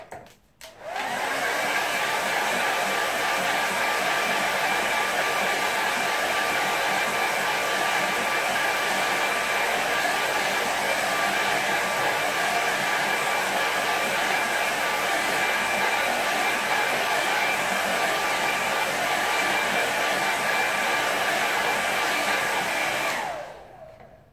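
A hair dryer blows steadily on a watercolour painting of snowy fields, a loud continuous whirring rush close by that runs unbroken for over twenty seconds before switching off.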